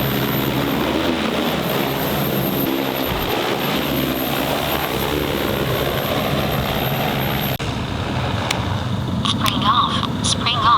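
A steady, loud whirring of multiple propellers drones on close by, an agricultural spraying drone hovering and flying, with a voice talking over it.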